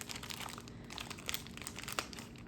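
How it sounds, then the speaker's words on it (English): A plastic bag crinkles and rustles softly and steadily up close as a cross-stitch pattern is slid out of it, with a few sharper crackles along the way. "Sorry for all the crinkling."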